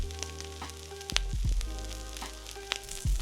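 Pork sisig sizzles steadily on a hot sizzling plate, finished with fresh calamansi slices. Scattered clinks and knocks sound close by, and faint sustained tones play underneath.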